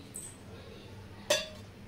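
A glass of water gets covered with a lid, giving one short, bright clink of glass on glass near the close, heard plainly against quiet room tone with a faint earlier tap.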